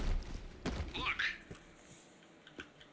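Gunfire in the zombie video game Left 4 Dead 2: a burst of thudding shots at the start, then scattered fainter pops and impacts fading out, over low game ambience with someone talking.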